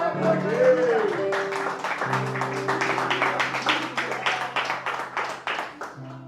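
A church congregation claps in praise during a worship service, a rhythmic run of claps building under sustained tones and a voice, steady and fairly close throughout.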